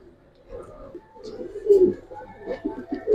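Silver coloring pigeons cooing softly in low, rolling murmurs over about three seconds, close by, with some voice-like sound mixed in.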